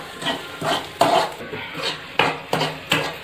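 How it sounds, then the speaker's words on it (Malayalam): A ladle scrapes and clanks rhythmically against a pan as grated coconut fries in coconut oil, sharp metallic strokes about every half second over a soft sizzle. "ഇത് കണ്ടിന്യൂസ് ആയിട്ട് ഇളക്കിക്കൊണ്ടിരിക്കണം."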